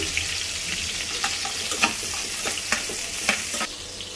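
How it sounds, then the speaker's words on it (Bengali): Chopped onion frying in oil in a pan for a fish and eggplant curry, giving a steady close sizzle with a few sharp crackles and spatula scrapes, no talking. "দিয়ে দিলাম তেল, পেঁয়াজ কুচি দিয়ে দিলাম।"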